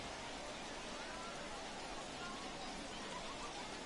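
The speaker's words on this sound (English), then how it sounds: "The rain coming down as it is, we are in for a long delay." Steady rain pours down throughout at a minor-league baseball game, a constant broad hiss of falling water with faint crowd murmur underneath.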